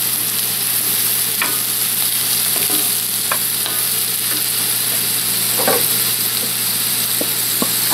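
Sliced mushrooms sizzle steadily in a hot pan while being stirred for sweet potato noodle japchae, a constant close frying hiss with occasional soft scrape and clatter of the utensil.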